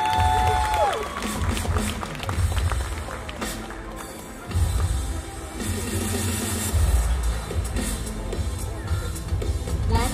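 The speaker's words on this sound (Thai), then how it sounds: "ขอเสียงปรบมือต้อนรับ" An audience at a male beauty pageant applauds and cheers, a loud, continuous crowd roar with clapping, shouts and a deep rumbling undertone, briefly dipping before surging again.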